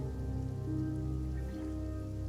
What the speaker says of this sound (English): I guess this is just Kuuvahki rain, then?